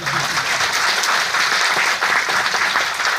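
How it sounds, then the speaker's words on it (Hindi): A large audience claps loudly and continuously, a dense, even roar of hands that holds steady from start to finish with no voice on top. "क्या जोरदार ताली बजाते हैं"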